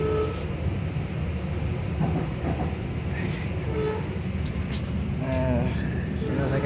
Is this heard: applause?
no